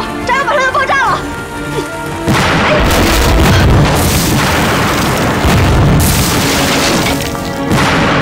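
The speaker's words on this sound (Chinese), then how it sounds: "大家快卧倒，炸药马上要爆炸了" Explosives blowing up in a wartime kung fu drama scene, a loud, sustained roar of blasts and crashing debris that swells twice, following a shouted warning voice at the start.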